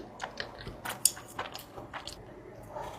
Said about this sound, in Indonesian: Jadi hari ini mau mukbang sushi.